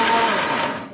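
Large mixer grinder jar whirring as it dry-grinds fish curry masala, a loud close motor roar that runs steadily, then cuts off and spins down at the end.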